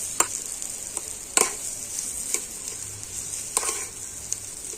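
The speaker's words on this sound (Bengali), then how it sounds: "এখন আমি সমস্ত কিছু আলুর সাথে কিন্তু একটু এইভাবে নাড়াচাড়া করে ভালো করে মিশিয়ে নেবো" Spiced mashed potato filling being stirred and mixed by hand in a pan, giving soft, intermittent scraping strokes with faint sizzling underneath, fairly quiet and steady with no voices.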